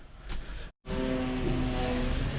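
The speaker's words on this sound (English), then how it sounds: "I'm going to go back towards the building work, I'm afraid, so sorry about the noise." Building work nearby while aboard an Absolute 50 Fly motor yacht: a steady, loud mechanical drone with humming tones runs on, broken by one brief silent gap near the start.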